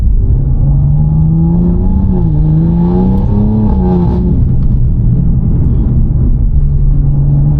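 A BMW G87 M2 on upgraded suspension drives along a country road, its engine droning loud and close from inside the cabin, pitch rising and dipping as it works through the bends.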